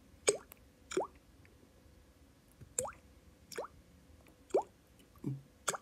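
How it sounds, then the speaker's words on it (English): A leaky faucet dripping water in six distinct plopping drops spaced unevenly about a second apart, close and clear against a quiet background. "it's a drippy faucet"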